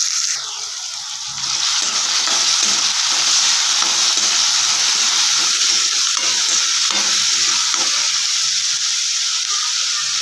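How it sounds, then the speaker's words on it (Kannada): Onions sizzle in hot oil with mustard seeds and curry leaves, a steady bright frying hiss with repeated soft stirring scrapes, close and loud throughout, no voices. "ಕರಿಬೇವು, ಕಟ್ ಮಾಡ್ಕೊಂಡಿರೋ ಈರುಳ್ಳಿ ಚೆನ್ನಾಗಿ ಮಿಕ್ಸ್ ಮಾಡ್ಕೊಳ್ಳೋಣ."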